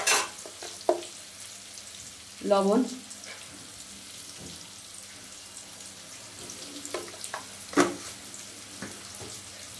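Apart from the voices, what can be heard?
eggplant frying in pan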